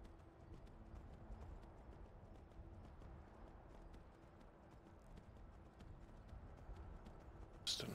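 Horse hooves clip-clop in a steady rhythm while riding through rocky countryside in the video game Skyrim, a continuous moderate trotting beat at mid distance with no talking.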